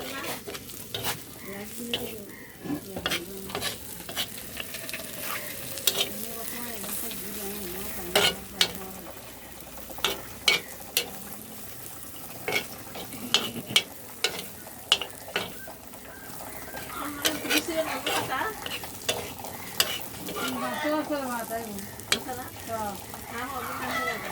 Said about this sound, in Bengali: দেখেন আমার চিংড়ি মাছ ভাজি হয়ে গেছে, চিংড়ি মাছগুলো হয়ে গেছে ভাজি।